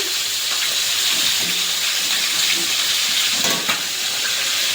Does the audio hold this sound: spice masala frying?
yes